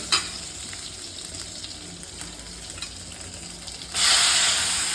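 Crushed garlic sizzles in hot oil while being stirred, a close, continuous hiss with small scraping ticks, swelling into a louder, brighter sizzle for the last second.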